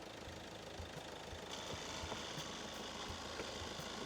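A used car's engine idling with a steady rumble and a rattling, knocking texture throughout, fairly close and continuous.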